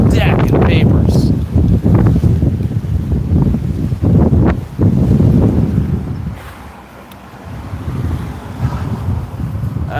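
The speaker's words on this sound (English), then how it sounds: "Oh my goodness, that wind is stacking papers." Strong gusting wind buffets the microphone outdoors at night, loud roaring rumble that surges and briefly dips before rising again, with a person speaking over it.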